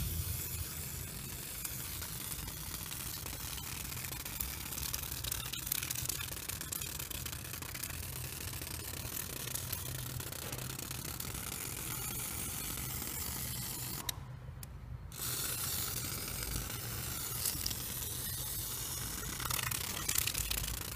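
Brake cleaner aerosol sprayed onto the timing belt pulleys of a Peugeot engine during a belt kit change: a long, steady, close hiss running almost throughout, broken by one short pause about two-thirds of the way through.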